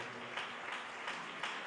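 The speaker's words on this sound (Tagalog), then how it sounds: "Palakpakan po natin ang ating mahal na Panginoon." Applause from a church congregation at a San Carlos City, Pangasinan service, a steady broad wash of clapping with a few louder swells, heard alone without speech.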